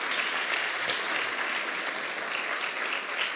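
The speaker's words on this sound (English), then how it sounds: "I want you to give them a massive round of applause." Church congregation applauding during a service, a continuous dense wash of clapping heard from within the crowd, even in level and alone without speech.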